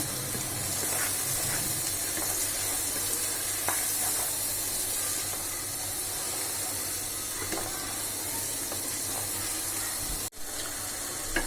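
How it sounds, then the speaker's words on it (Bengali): Spice paste with turmeric powder fries in a pan for a snakehead fish bhuna, giving a steady, dense sizzle with occasional faint stirring scrapes throughout and no voices. "মশলাটাকে ভালোভাবে কষিয়ে নিই।"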